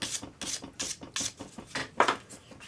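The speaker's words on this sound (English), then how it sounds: "Use your 400 grade paper on a sanding stick." Ends of a metal earring rubbed down with 400 grade abrasive paper on a sanding stick, a steady series of close, gritty back-and-forth strokes, each one short and soft, heard alone.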